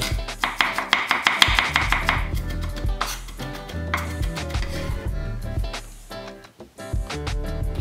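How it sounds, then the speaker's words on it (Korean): Rapid knife chopping on a cutting board mincing three whole garlic cloves, quick regular taps that slow and thin out toward the end, close and fairly loud with no talking. "통마늘 3개 다지고"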